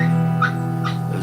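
Puppies bark, yip and whimper in short bursts over a steady hum, as if wanting to be let out; the sounds are moderately close.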